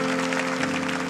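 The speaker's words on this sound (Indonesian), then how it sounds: "Kita berikan tepuk tangan untuk Roh Kudus." Church congregation applause during a sermon, a brief soft wash of clapping over a steady sustained musical drone.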